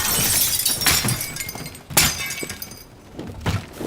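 Half a building collapsing in the video game Teardown, a run of loud crashing and shattering bursts with crunching debris and glassy breaks, separated by brief lulls, with no talking over it.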